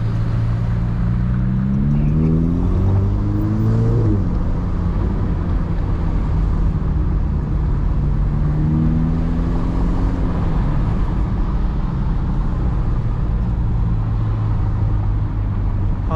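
A 2021 Ferrari Roma engine and exhaust while driving in manual mode, a loud continuous rumble with rising and falling revs as gears change, heard from inside the car.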